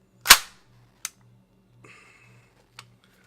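E-11 blaster prop with its bolt being pulled back and locked, a sharp loud snap followed by a few lighter mechanical clicks and rattles, close up and alone.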